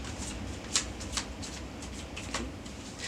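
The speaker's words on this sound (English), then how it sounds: "This is the last shuffle." A deck of cards being shuffled, with a few crisp riffle bursts and soft flicks over about three seconds, fairly quiet and close with no talking.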